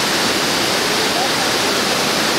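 Steady, dense roar of the Quetzalapan waterfall near Chignahuapan, heard up close from a viewpoint, a continuous broadband rush of falling water with no talk over it.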